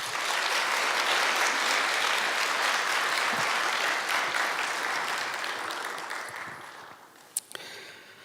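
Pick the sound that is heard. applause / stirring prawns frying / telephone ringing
applause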